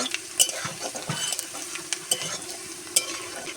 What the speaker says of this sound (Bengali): রসনা কুচিটা দিয়ে আমি খুব সুন্দর মতো ভেজে আমি ব্রাউন কালার করে নেব